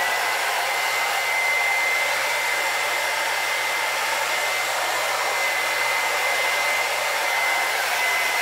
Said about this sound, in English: heat set in between